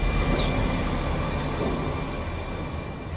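A train rumbles into the station in the sci-fi horror game Alien Isolation, a loud, heavy mechanical roar with low rumble and a steady hum that slowly eases off, with no voices.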